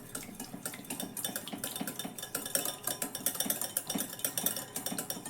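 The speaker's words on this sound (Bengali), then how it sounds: "একটা হ্যান্ড হুইস্ক দিয়ে খুব ভালোভাবে দইটাকে কিন্তু ফেটিয়ে নিব।" A hand whisk beats yogurt in a bowl, producing a fast, steady rhythm of metallic clinks and soft wet slaps that runs close and fairly loud throughout, with no voices.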